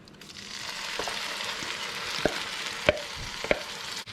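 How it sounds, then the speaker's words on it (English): Squid frying in oil with homemade spicy sambal, a steady close sizzle with a few sharp clicks from a spatula stirring the pan. "we're just going to fry that off in that oil for quite a while"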